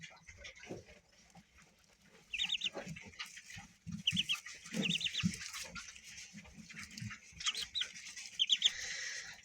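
Several bursts of high, thin peeping calls from ducklings come in short clusters, with rustling, handling noises and low thumps in between.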